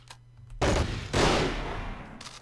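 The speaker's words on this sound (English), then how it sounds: "that's where a lot of the gunfire is directed" Gunfire from the World War II strategy game Men of War Assault Squad 2 comes as two loud bursts of rapid shots, the second trailing off, then a faint short burst at the end.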